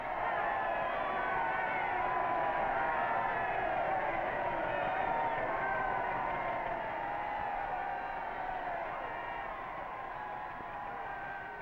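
A large crowd shouts and murmurs at a 1940s London ceremony, a steady distant roar of many voices that fades slightly toward the end, heard through an old, muffled recording.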